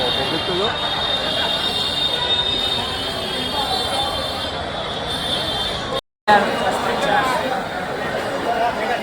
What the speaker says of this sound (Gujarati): ફાઇનલી અમારી ટ્રેન આવી ગઈ છે